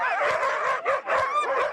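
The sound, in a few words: sled dog puppies yipping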